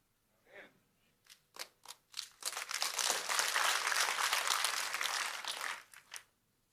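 A church congregation applauds during a sermon, a few scattered early claps swelling into a loud sustained wave of clapping that fades out with several last single claps.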